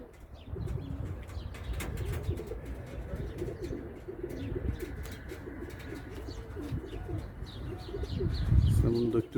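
A male kirli takka perçem pigeon coos repeatedly in a loft among other pigeons, soft rolling coos and faint chirps with occasional wing flaps under a voice.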